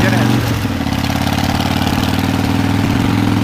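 Harley Davidson motorcycle engine idling steadily up close, a loud continuous low rumble with a lumpy pulsing beat that holds even throughout.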